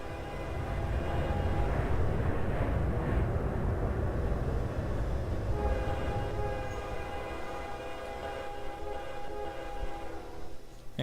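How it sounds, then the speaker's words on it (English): Train fog horns blow in Garry's Mod, a loud sustained chord that swells and holds, then drops to a softer drawn-out tone, with rumbling machinery beneath. "Oh, and then there's the front horns, the fog horns."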